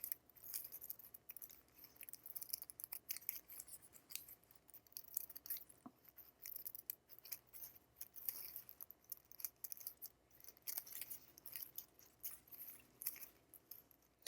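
Scissors snip repeatedly through thick, many-times-folded paper while cutting papel picado, a quiet, busy run of short crisp cuts and rustles with irregular rhythm, close by and alone.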